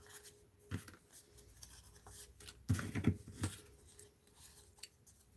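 Scissors trim paper for a mixed-media art journal in a few soft snips and rustles, with a brief cluster of louder cuts near the middle, close and quiet.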